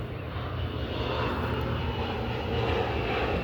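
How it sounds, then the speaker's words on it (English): A fixed-wing airplane near a private airport drones steadily overhead, a loud continuous engine roar that holds and swells slightly toward the end, with no talking. "That's an airplane."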